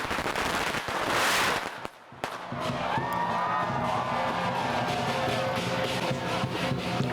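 Firecrackers going off at a Chinese New Year celebration in Philadelphia's Chinatown: loud crackling bursts with sharp bangs, then a sustained roar of crowd and street noise close by.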